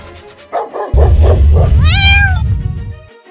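A cartoon cat in an animated comedy gives a loud, rising-and-falling meow over a burst of rumbling background noise, with a few softer yowls and a dog-like bark just before it.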